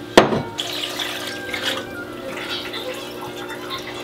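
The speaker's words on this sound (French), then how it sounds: "Je mouille à l'eau claire, froide," Clear cold water is poured into a casserole pot for pot-au-feu. A sharp splash opens, then a softer, running pour continues close by with no voices.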